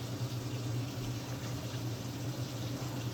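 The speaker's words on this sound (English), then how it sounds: "turn on the cold water" Cold water running from a tap into a kitchen sink with the stopper in, a steady faint rushing flow with no break, heard alone without talk.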